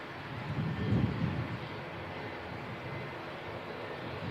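An airliner arriving at Christchurch Airport from Queenstown, New Zealand, a steady broad engine roar close to the runway, loudest at the start and holding level throughout, with some wind.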